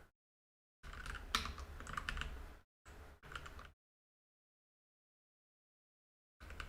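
Bursts of clicking on a computer keyboard while coding, a quick flurry of keystrokes followed by two short clusters, then silence and a final brief tap, close and quiet.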